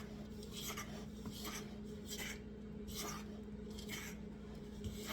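A spatula rasps against a mixing bowl while raspberry muffin batter is folded, giving quiet, rhythmic scrapes of roughly one stroke per half second over a faint steady hum.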